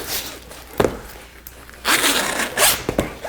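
A zipper on the bimini top of a 38-foot Sea Ray boat is pulled in long rasping strokes close up, with scrapes and handling clicks between them.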